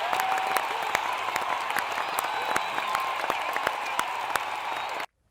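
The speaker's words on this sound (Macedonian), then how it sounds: "Аплауз." A crowd claps at a political gathering in Macedonia, dense, steady applause with sharp individual claps throughout, ending abruptly in silence.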